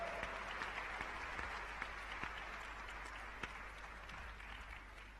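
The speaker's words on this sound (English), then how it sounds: "please welcome her with a warm round of applause." An audience gives a speaker a warm welcome with steady, even applause, a dense continuous clapping over a low hum that continues throughout.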